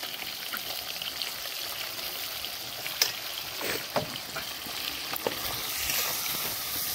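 Ginger, green chili and cumin paste fries in oil in a pan, a soft, fairly faint sizzling hiss with a few scattered pops and crackles.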